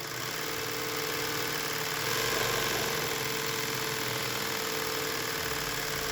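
A Juki LH-series industrial sewing machine runs steadily while winding a bobbin, a continuous close mechanical whir and hum with a slight swell midway and no pauses.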